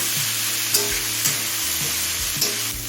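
Onions fry in hot oil until lightly browned, a steady close sizzle with a low hum beneath and a few soft stirring clinks at regular intervals.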